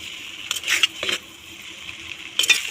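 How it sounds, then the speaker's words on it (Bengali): Noodles tossed with spice mix in a pan, a few scattered clinks and scrapes of a utensil against metal over a faint sizzle, coming in short separate bursts. "তো এখন আমি নাড়াচাড়া দিয়ে দেবো নাড়াচাড়া দিয়ে সুন্দর করে নুডলসের সাথে মশলাটা মাখিয়ে নেব"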